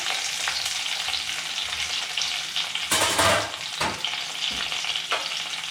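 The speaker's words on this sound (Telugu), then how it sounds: "ఇవి బాగా ఫ్రై చేసుకుందాం" Sliced onion and green chilies sizzle steadily in hot oil in a pan, with stirring scrapes. A louder burst of frying comes midway.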